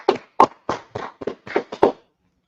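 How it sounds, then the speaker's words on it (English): Roughly eight separate hand claps, close and fairly quiet in an otherwise silent room, slightly uneven in spacing, then stopping. "Let's clap it up for the class."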